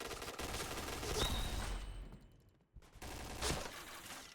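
Gunfire in the shooter Point Blank: dense, rapid bursts of shots crackle almost continuously, dropping out briefly midway before another loud volley resumes.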